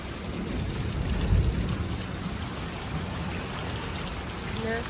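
Rain falls steadily on a garden in Germany where rose plants stand, a dense, even patter of drops across the whole stretch with one slightly louder surge early on.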